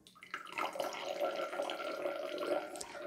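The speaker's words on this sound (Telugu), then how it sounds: "ఈ మాక్టైల్ చేసుకోవడానికి 30 ml దానిమ్మ జ్యూస్ని పోస్తున్నాను" Pomegranate juice poured for a mocktail, a soft continuous liquid stream trickling into a glass for about three seconds, quiet and close with no talking.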